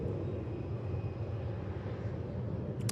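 Qatar Airways flight 989, an airliner passing at Melbourne Airport, heard as a steady broad roar of jet engines that holds even and fairly loud throughout without a clear rise or fade.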